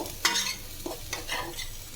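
Potatoes frying in a pan as a home cook stirs them to soften, giving scraping spatula strokes at a steady pace over a soft continuous sizzle, close and alone without any voices.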